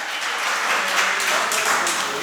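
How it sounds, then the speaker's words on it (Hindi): Audience applause at a stand-up comedy open mic event in Ballia, a steady, dense wash of clapping that holds evenly for the whole stretch, fairly loud with no voices on top. "मैं सारे ग्रुप के मेंबर्स के लिए तालियां चाहता हूँ ये इवेंट के लिए"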